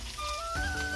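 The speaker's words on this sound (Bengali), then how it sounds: "সরষে ফাটছে প্রচুর" White mustard seeds pop and crackle in hot mustard oil during pickle making, a dense close sizzle with rapid tiny pops over about a second.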